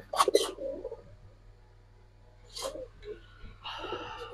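Pigeons coo in a loft among a flock of Giribaz and Dobaz fancy pigeons, with several short, fairly close bursts of calls separated by quiet stretches.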